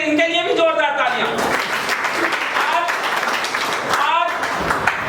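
An audience at a field developers leaders meeting applauds loudly, a continuous crackle of clapping hands with voices talking over it throughout.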